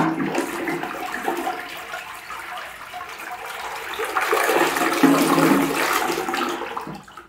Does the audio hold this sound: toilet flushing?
yes